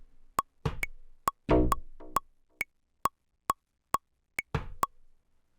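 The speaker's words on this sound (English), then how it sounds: "we got a tubular bass preset here with, sounds like some delay" Sampler playing a tubular bass preset with delay on a Roland SP-404mk2: soft plucked tones repeat and echo under a steady metronome click that ticks evenly throughout, quiet and close.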